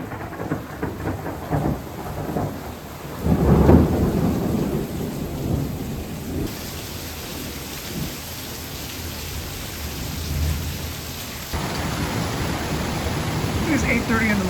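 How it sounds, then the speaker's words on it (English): Heavy morning rain in Ulcinj, Montenegro pours down in a dense, steady hiss, with a deeper rumble swelling briefly partway through. "it is pouring rain"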